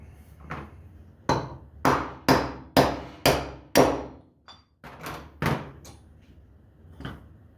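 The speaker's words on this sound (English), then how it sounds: "that was a perfect fit for knocking that bearing out" Repeated hammer blows knock a bearing out of a Ryobi 480e riding mower deck motor set on a block of wood, about nine sharp, loud metallic strikes in an uneven rhythm, a few lighter taps between them.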